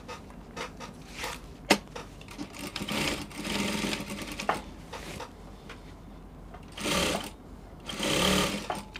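A sewing machine stitches down a slit on a half bubu dress, running in steady whirring bursts with brief pauses between runs, close and fairly loud with no talking.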